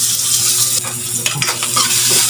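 Chopped onion and garlic fry toward golden brown in a pan, a close, loud, continuous sizzle broken by scraping stirring strokes.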